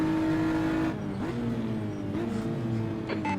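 A GT4 race car engine in Assetto Corsa holds a steady harmonic drone, then the throttle eases back and the pitch shifts and wavers as revs rise and fall, close and continuous.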